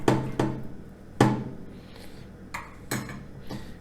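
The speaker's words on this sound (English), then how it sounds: "just get your whisk and go ahead and whisk everything together again" A metal whisk clinks against a bowl while stirring roux, giving several sharp, irregular taps and scrapes close up with a quiet pause between strikes.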